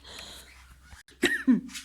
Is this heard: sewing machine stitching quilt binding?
no